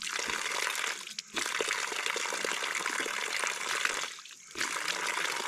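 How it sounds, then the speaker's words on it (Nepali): Cold mountain spring water gushes steadily on a trekking trail between Sinja-Gothijiula and Mugu's Patan meadow, a loud continuous rushing flow with two brief dips, close by and with no talk. "त्यहाँनिर यति गजबको पानीको धारा"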